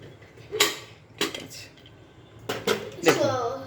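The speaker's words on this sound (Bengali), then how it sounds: "দেখুন প্রেশার রিলিজ হয়ে গেছে এবার খুলে দিচ্ছি" A stovetop pressure cooker, its pressure already released, is opened: a handful of sharp metallic clanks and scrapes from the lid and pot, close and fairly loud, with brief talking near the end.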